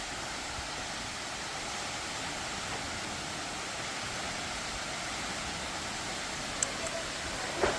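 A waterfall in a valley in southern Laos roars as a steady, dense rush of falling water, constant and loud throughout, with only a couple of faint clicks near the end.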